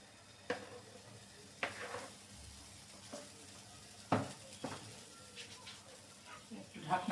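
Batter for garlic mayonnaise buns goes into a hot pan, with a soft steady sizzle broken by a few sharp clatters of utensils against the pan, recorded up close in a home kitchen.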